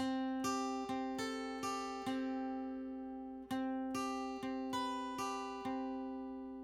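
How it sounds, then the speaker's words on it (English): Electric guitar lead line for a song bridge, drenched in delay and reverb: a run of clear picked notes, each ringing out and overlapping as echoes trail behind, with a short pause midway before the phrase resumes. "It's obviously electric guitar."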